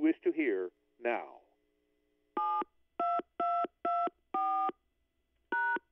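Touch-tone telephone keypad beeps entered one after another, six clear tones with short gaps, following a brief synthetic-sounding voice prompt.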